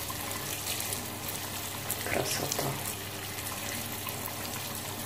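Cold water from a home shower pours in a steady broadband hiss throughout, with a person briefly speaking over the running stream partway through.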